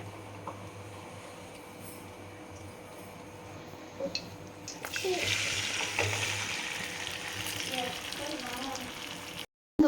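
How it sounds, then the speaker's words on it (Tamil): Spiced tuber pieces drop into hot oil in a kadai over high flame, the quiet background giving way to a louder, sustained frying sizzle that cuts off abruptly at the end. "அந்த எண்ணெய் சுட்ட உடனே இந்த கிழங்கை போட்டு வறுத்துக்கலாம்."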